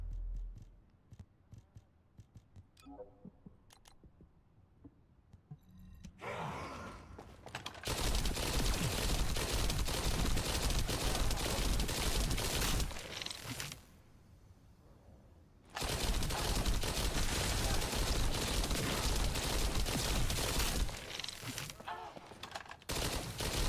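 Rapid automatic gunfire from the video game The First Descendant, long dense bursts of fast crackling shots broken by short pauses, loud and close, with soft ticking and a bit of talk in the quieter stretches.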